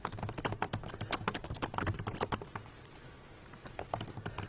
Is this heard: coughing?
no